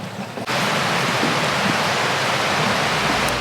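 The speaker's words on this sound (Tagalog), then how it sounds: "May rumaragasaan na naman na ulan." Heavy rain suddenly starts pouring down on an outdoor bamboo hut build site, swelling within half a second into a loud, steady, dense roar that continues without a break.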